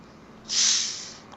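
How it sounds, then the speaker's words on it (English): A single sharp hiss of gas escaping as the cap of a plastic Pepsi bottle is twisted open, close and brief, fading over a second. "I'll just have to crack open this bottle of Pepsi"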